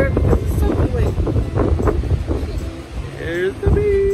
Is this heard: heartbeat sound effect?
no